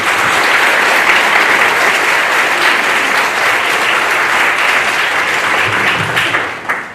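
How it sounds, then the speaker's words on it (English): Dense, sustained applause from a large audience at a patriotic celebration event, loud and even throughout with no break. "Well, put those hands back together for Jesus Christ."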